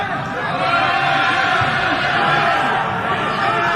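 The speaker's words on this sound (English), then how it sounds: "An absolutely raucous indoor situation." A raucous indoor crowd at a spring football practice fills the room with a dense, continuous roar of chatter and cheering, loud and close, with voices talking through it.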